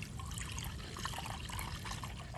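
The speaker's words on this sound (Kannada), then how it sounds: "1 ಕಪ್ ಹಾಲನ್ನು ಹಾಕ್ತಾ ಇದ್ದೀನಿ." One cup of milk is poured into a pan of cauliflower being readied for frying, a faint, steady trickling pour heard up close with no talk.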